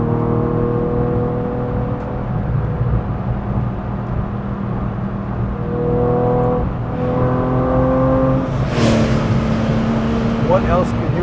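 A Gunther Werks car in sport mode drones steadily from inside the cabin, its engine note holding and then swelling into a rev with a brief whoosh of shifting near the end.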